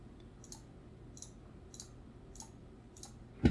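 Mouse clicking the green flag in Scratch, heard as five or six crisp, evenly spaced clicks roughly every half second, close and clear over a quiet background, with a louder knock at the very end.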